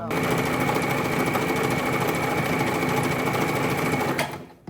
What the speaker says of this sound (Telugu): ఈ మిషన్ లో ఈ కుట్లన్నీ వస్తాయి